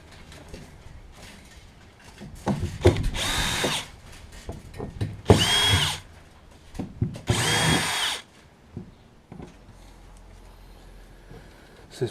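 Power drill backing screws out of a plate fitted over a hole in a fishing boat's hull, three loud whirring bursts of a few seconds each with quiet handling noise between.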